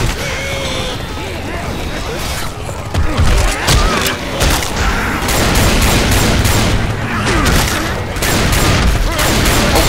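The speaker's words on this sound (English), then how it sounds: "I fucking love this shotgun, it's so easy" Shotgun fire in Left 4 Dead 2 comes as a dense run of loud, repeated blasts mixed with other gunfire and game chaos, with people talking over the shooting.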